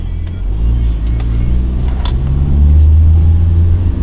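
A car engine rumbles and builds as it accelerates from a start, a deep steady drone swelling louder toward the end, close and with no talk over it.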